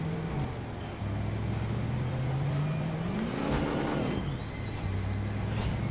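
A car engine in a driving video game hums steadily, then swells and revs higher before dropping back to a steady drone, heard loud and close with light background noise.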